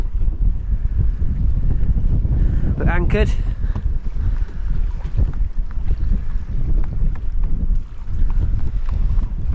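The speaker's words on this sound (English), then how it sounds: "Bit windy today." Strong wind on a dock roars and buffets the microphone continuously, loud and close, while someone speaks briefly over it.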